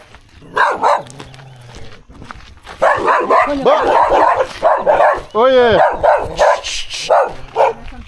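A dog in Jericó, Colombia barks several times at close range, loud and agitated, with people talking over and between the barks.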